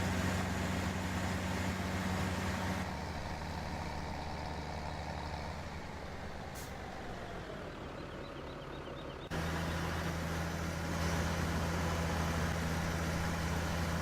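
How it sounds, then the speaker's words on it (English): Farm vehicle engine in a farming video game, held at a constant high rev as it drives, a steady droning hum that dips and shifts in tone midway before returning to full pitch. "the moment you start driving it goes into this crazy full revving"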